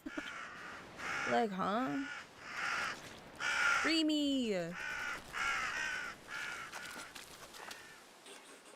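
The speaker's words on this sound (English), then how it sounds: "I want the crows to stop doing that in front of me. They making all this noise because of you." Crows cawing in the Reka video game, several loud harsh caws in bursts near the listener, heard alongside a person talking over them.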